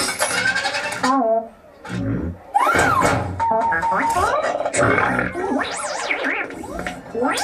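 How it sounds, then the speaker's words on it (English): Two layered burp effects built for a Star Wars creature, stacked into one: loud, wet, gurgling belches with warbling, croaky pitch swoops, coming in several close bursts with brief gaps. "When one burp isn't enough, we add two."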